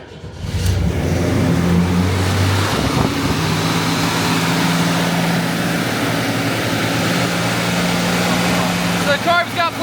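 A Jeep's carbureted engine catches and runs loud and close after priming the carburetor. It gives a continuous, rough, droning roar with a voice speaking over it.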